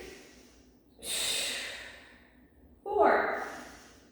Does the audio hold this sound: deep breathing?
yes